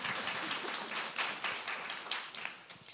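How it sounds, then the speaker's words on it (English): An audience at a women's travel festival panel claps for the panelists, producing a dense, even round of applause that rises and falls slightly over a few seconds. "So please give a warm round of applause for Sherry Ott, Carolyn Ray, and Timothea Workman."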